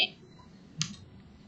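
One sharp computer mouse click sounds close and brief amid quiet room tone while a WooCommerce web page is being edited.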